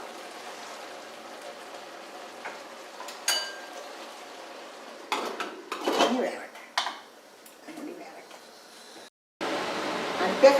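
A pot of aviyal is opened and stirred and capsicum added: scattered close metallic clanks, scrapes and a lid knock over a soft steady hiss of simmering.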